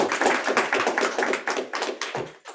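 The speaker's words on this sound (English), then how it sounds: "let's give a round of applause for Brian" Audience applause for a lecture speaker on multicentennial perspectives on extreme climate: dense, steady clapping from a room of listeners that holds strong for about two seconds, then thins out and fades.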